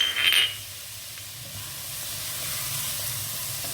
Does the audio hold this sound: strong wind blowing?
no